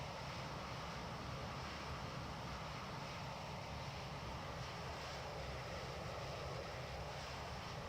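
Toliss A319 airliner engines in the X-Plane 11 flight simulator hum as a steady, dense jet roar, constant and fairly loud with no variation.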